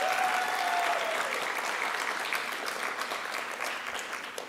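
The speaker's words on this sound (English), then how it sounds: "Let's give her a round of applause." Audience applause at a school band concert, a steady, moderately loud sheet of clapping from the crowd that holds for several seconds and gently fades, with a faint tone lingering at the start.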